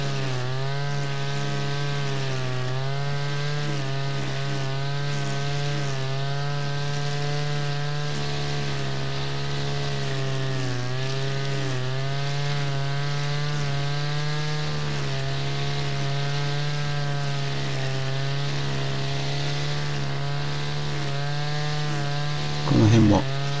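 Brush cutter with nylon cord trimming overgrown grass, a steady high-revving two-stroke whine with wavering pitch as the engine load shifts, loud and close for the whole stretch.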